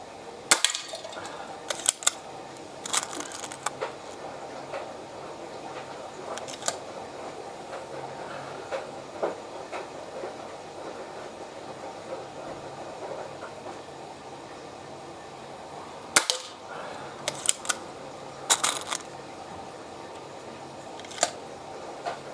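Benjamin Trail NP Mk2 air pistol firing pellets outdoors, a few sharp, faint pops spread across the stretch amid quiet background noise, with no talking.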